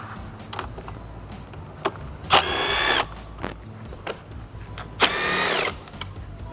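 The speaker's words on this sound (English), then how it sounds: "Now we want to remove the 2 Torx fasteners on both sides of the cowl." A power driver backs out Torx fasteners, T30 and T25, from the cowl of a 2021-or-newer Ford Bronco: two loud whirring bursts of about half a second each, separated by quiet handling clicks.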